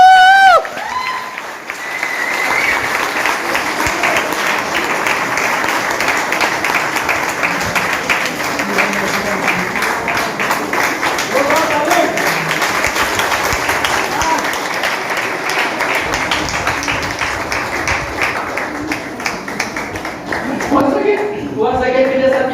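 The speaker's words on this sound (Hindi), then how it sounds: "आपको 2 लाख ताली मांगे।" Loud audience applause at a motivational marketing event, a long sustained round of many hands clapping with some cheering, after brief talk at the start and again near the end.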